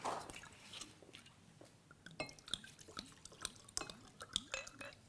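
Water is poured into a glass at a book launch, with soft liquid trickles and drips over several light glassy clinks and handling knocks at close range. No one speaks.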